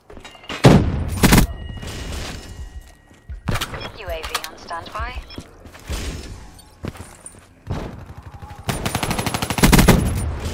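Gunfire in Call of Duty: Black Ops 3 Free For All sounds in loud, rapid bursts and single shots, separated by pauses in which a player talks.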